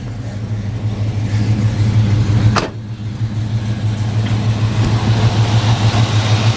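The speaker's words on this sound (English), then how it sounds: "Nice and quiet motor up front. Little rumble out the back." A 1972 Chevrolet Chevelle Sport Coupe with a Turbo 350 automatic idles steadily, its exhaust giving a low, even rumble from start to finish, with a brief dip and a faint click partway through.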